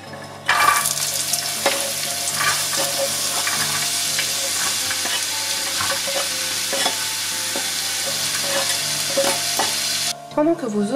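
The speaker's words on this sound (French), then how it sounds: "dans une poêle, vous faites chauffer un fond d'huile et on va commencer à faire blondir notre oignon" Onion frying in a film of oil in a pan, a steady close sizzle with scattered stirring scrapes and clicks throughout, and no talking.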